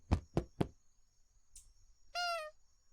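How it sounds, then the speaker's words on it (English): Three sharp knocks on a door in a horror video game, evenly spaced and loud and close, followed by a brief faint rustle and a short tonal electronic chime. "So they knock."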